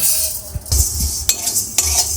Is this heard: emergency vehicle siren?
no